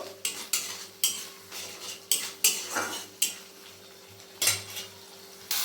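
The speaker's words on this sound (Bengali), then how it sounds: "এবার এটাকে খুব ভালো করে কষিয়ে নেব" Mustard hilsa spices with green chillies, turmeric and salt being stirred and sautéed in a pan, a metal spoon scraping and clinking against the pan in repeated strokes over a low steady hum, close and moderately loud.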